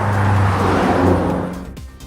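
A 2013 BMW M6 Cabrio accelerates hard, its engine a loud, close, sustained roar with strong low harmonics that holds steady, then eases and fades over about two seconds.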